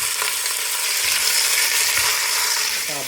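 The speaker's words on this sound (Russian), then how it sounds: "Обжариваем 500 грамм свиных ребер до румяной корочки" Pork ribs, about 500 grams, frying in ghee in a pan, giving a steady, close, dense sizzle that holds evenly throughout with no talking.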